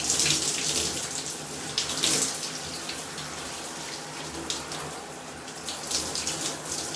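Tap water runs steadily while hair is rinsed out section by section during a wash-and-go styling routine, a continuous close hiss with small splashing surges and no talking.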